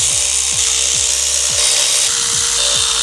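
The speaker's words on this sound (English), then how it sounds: "I'm just going to use my torque gun here" A torque gun loosens the timing chain cover bolts on an Audi, giving a loud, continuous harsh whirr with a regular pulsing thud roughly twice a second throughout.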